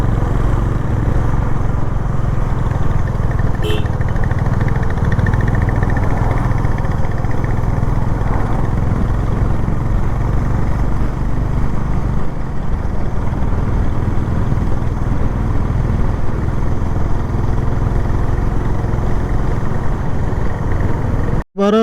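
A Honda Hness motorcycle rides along a mountain road with a steady engine hum under constant wind rush, and a sharp click near the end.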